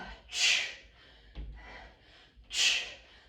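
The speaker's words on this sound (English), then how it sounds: "Exhale." Two forceful, breathy exhales during a yoga and barre workout, each a loud rushing puff of air about two seconds apart, with a soft thump between them.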